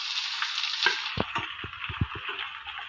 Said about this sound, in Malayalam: നമ്മളതിലേക്ക് നമ്മൾ ഉള്ളി ഇടുകയാണ്. സവാള അരിഞ്ഞത്.